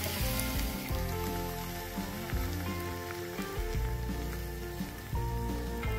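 Liquid poured into a hot pan holding fried dried red chillies, with the gas just switched off, crackles and sizzles steadily under a bright background hum, with small sharp pops scattered through.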